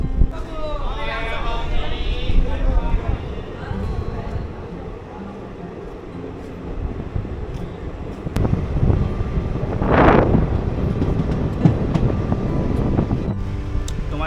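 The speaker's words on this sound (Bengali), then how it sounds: "আমাদের ট্রেন কিন্তু এখন কাটোয়া জংশন ছেড়ে দিল" Passenger train runs just after leaving Katwa Junction, with a steady rumbling roar and wind noise from inside the carriage, a brief louder whoosh partway through, and voices speaking early on.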